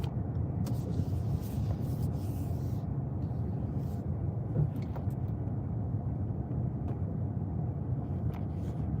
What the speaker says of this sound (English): I'm driving Mercedes.